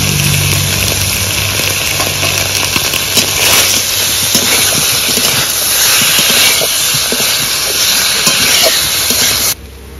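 Chopped tomatoes and turmeric hit a hot frying pan with a loud, steady steam-like sizzle and hiss that runs continuously before suddenly dropping off at the end.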